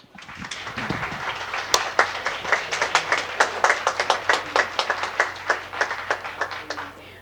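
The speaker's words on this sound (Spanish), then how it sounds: "La recibimos con un enorme aplauso." A small audience at a talk on plant-based vegetarian and vegan eating claps for an arriving presenter: distinct, fairly close hand claps that grow into an even, rhythmic patter and run for several seconds.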